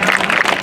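Audience clapping together to welcome guests at a school annual day prize-giving function, a dense, steady burst of applause filling the whole short moment.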